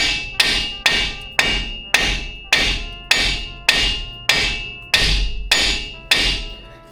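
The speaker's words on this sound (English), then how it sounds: "Flat spot, a little hammering." About ten evenly spaced, sharp metallic hammer blows strike the front shock and strut assembly of a Ford F-150 pickup, each ringing briefly before the next. They sound close and loud, with no voices.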